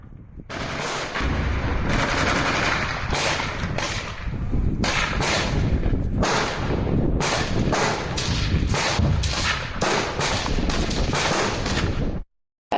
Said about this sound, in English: All weapons fire.